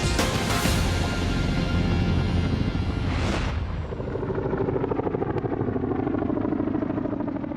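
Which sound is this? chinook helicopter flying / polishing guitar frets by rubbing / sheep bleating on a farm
chinook helicopter flying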